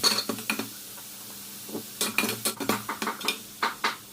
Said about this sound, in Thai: เอาพริกกับกระเทียมที่เรา ปั่นไว้เมื่อกี้ครับ ลงผัดครับ